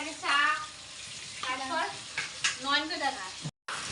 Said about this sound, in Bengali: মানে কাতল মাছ ভাজা হচ্ছে